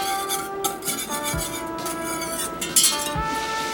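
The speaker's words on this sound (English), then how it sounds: "Now I'm bringing in my whisk." A metal whisk clinks and scrapes in a pan of melting butter, light irregular taps over a low background hum, with a couple of sharper knocks near the close.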